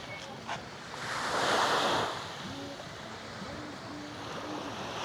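Waves wash onto a beach at a seaside promenade in Turunç, Türkiye, one surge swelling and receding against steady wind noise, with faint distant voices or birds in the background.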